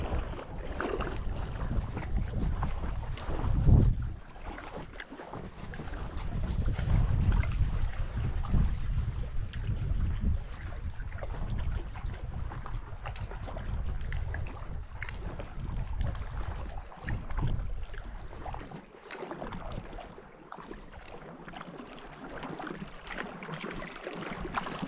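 A boat is paddled across a long lake, with soft water swishes and strokes under steady wind and outdoor rumble. A few louder bumps come early, and the scene stays fairly even throughout without voices.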